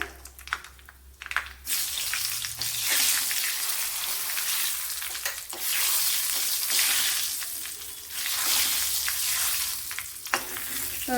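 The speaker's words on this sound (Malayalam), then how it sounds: "വൺ ടേബിൾ സ്പൂൺ വെളിച്ചെണ്ണ ഒഴിച്ചെടുത്തിട്ടുണ്ട് അതിൽ കുറച്ച് കടുക് ഇട്ടിട്ടുണ്ട് അതിലേക്ക് വറ്റൽമുളക് ഇട്ട് കൊടുക്കാം" Dried red chillies dropped into hot coconut oil with mustard seeds for a snake gourd dish, setting off a loud, close, continuous sizzle that swells and eases as the pan is stirred, with a few clatters at the start.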